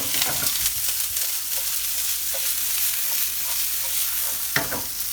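About half an onion sizzles and fries in hot oil on lowered heat while being stirred, a steady crackling hiss with scraping stirs and occasional sharp pops, close and alone without talk.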